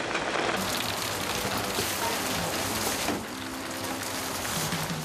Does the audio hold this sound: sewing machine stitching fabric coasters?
no